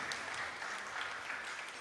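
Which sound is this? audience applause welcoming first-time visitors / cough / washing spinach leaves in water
audience applause welcoming first-time visitors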